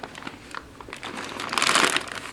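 A clear zip-top plastic bag holding a 2014 Swedish combat ration is handled and crinkled up close, with steady rustling that grows louder and denser toward the end.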